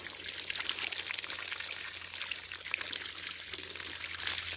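Water gushing from a repaired pump, a steady bright splashing pour that runs continuously and close, no voices.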